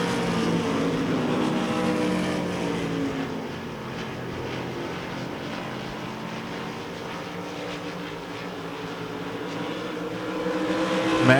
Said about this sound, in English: Early going here in heat race number 1 for the sprint cars